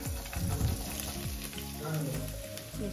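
Ginger and garlic frying in hot oil in a pan, a continuous close sizzle with scraping stirs and a few sputtering bursts.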